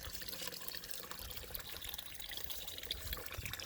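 Water trickling and splashing into a rain water catchment tank outdoors beside a barn, a continuous close burbling flow with bright spattering, steady throughout and without talk.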